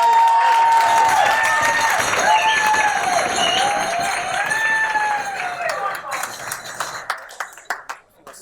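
Wedding guests applaud in a sustained round of clapping that thins toward the end into a few scattered claps, accompanied by a wavering tonal whine and some cheering.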